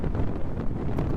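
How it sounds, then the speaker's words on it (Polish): Strong wind buffets a microphone on a trail route in Morocco, a loud, continuous, rumbling roar with gusty swells and no voices. "Wieje silny wiatr"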